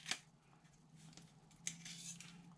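Scissors cutting craft paper along a score mark for a snow-themed tower box, giving two short, quiet snips about a second and a half apart over a faint hum, with no talk.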